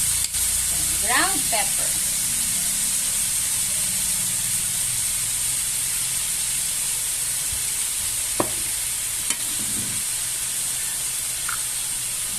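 Chicken gizzard cooks in a pan with a steady, loud hiss and sizzle throughout, plus occasional clinks of a utensil, while someone talks over it.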